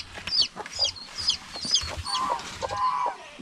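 Chickens cluck repeatedly at close range on a farm with geese and turkeys, a busy run of short, overlapping clucks and calls.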